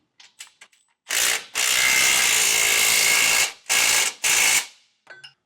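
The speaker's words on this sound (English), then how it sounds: "Now we'll tighten that down with a 19mm socket and wrench." A 19 mm socket and wrench tighten hardware on a Blue Ox base plate fitted to a 2024 Ford Bronco. Close, loud ratcheting runs in several bursts, one long stretch of about two seconds, preceded by a few light clicks.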